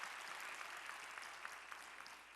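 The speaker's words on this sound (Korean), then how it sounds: "우리의 찬양을 받으실 우리 주님께 영광의 박수 올리겠습니다" A church congregation applauding during a worship service, an even wash of many hands clapping, fairly faint and distant, sustained throughout with no talk over it.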